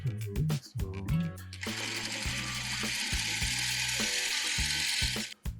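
Sewing machine stitching quilt pieces for a crumb star block, a fast close mechanical rattle in bursts with brief pauses, with a voice heard faintly at the start.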